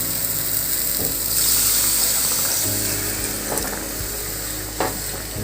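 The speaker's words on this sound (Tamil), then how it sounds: "இப்போ இதில் 1 டம்ளர் தண்ணி நம்ம ஊற்றி நல்லா கொதிக்க விடலாம்" A tumbler of water poured into a hot cooking pan of sautéed onions and spices for a thick hotel-style salna, giving a close, steady sizzling hiss with a few soft splashes and clinks and no talking.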